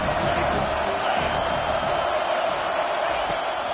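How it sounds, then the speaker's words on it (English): A stadium crowd in a Madden football video game roars continuously as a broad, steady wash of cheering and noise aimed at the offense, loud and even throughout. "This crowd trying to make life miserable for this offense."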